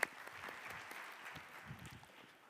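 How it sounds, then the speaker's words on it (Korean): A church congregation at a Korean young adults' worship service gives a round of applause, steady and moderately distant, filling the room for a couple of seconds. "하나님께 영광의 박수 함께 올려드리겠습니다"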